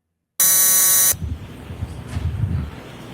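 A loud, flat electronic buzzer blares for under a second in a courtroom, then cuts off, leaving low murmuring room noise.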